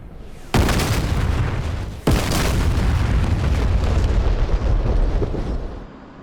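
Two heavy bomb impact explosions in the DCS World combat flight simulator, striking a target near an airfield taxiway; a sharp blast at the start, a second booming hit about a second and a half later, then a long loud rumbling roar that slowly fades.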